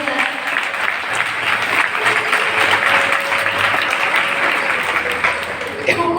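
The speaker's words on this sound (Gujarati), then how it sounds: "જોરદાર તાળીઓ." Audience applause at a school talent morning programme prize ceremony, a steady dense wash of clapping that holds fairly loud for several seconds without a break.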